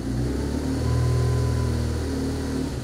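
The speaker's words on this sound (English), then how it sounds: "Just give it a little rev." A used motorcycle's engine running at idle and given a small rev, a steady close, loud mechanical drone that rises slightly in the middle and settles back, with no talking.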